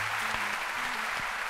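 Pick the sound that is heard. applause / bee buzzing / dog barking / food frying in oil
applause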